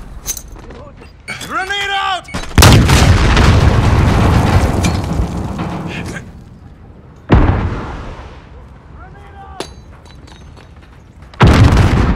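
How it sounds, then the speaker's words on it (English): Grenade blast in Call of Duty: Modern Warfare team deathmatch, a loud boom with a long rumbling tail, followed by a second sharp explosion and another burst at the end, with voices and game chatter around them. "Grenade out!"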